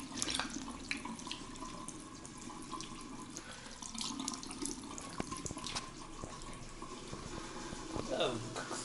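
Water runs steadily from a tap in a toilet room, a continuous broadband splashing stream with small clatters and knocks over it, fairly close and constant throughout.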